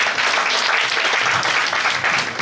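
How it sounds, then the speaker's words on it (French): Steady applause from an audience greeting a guest speaker at a church gathering, dense continuous clapping filling the room for the whole stretch with no voices over it. "Est-ce qu'on peut l'acclamer?"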